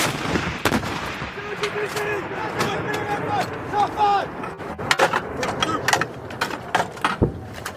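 An M777A2 howitzer fires with a loud, sharp boom, followed by clanks of the crew working the breech and shouted commands.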